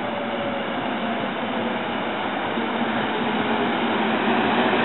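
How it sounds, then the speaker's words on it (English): A local passenger train pulls into a suburban station with a steady, loud rumble of wheels and rail noise that builds slightly throughout, without any voices. "We got the train coming in. I think this is a 623 local train."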